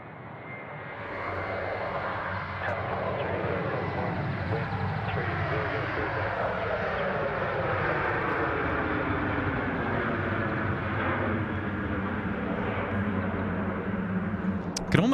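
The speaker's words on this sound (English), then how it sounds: "Jetstar 321 now rolling 34 right." A Jetstar Airbus A321 rolls down the runway for takeoff at Sydney Airport, its jet engines building to a loud, steady roar that holds for the whole stretch, with faint voices underneath.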